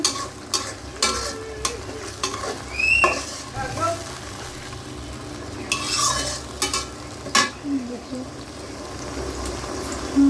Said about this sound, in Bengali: ভালো করে কাজটা মিক্স করে নিচ্ছি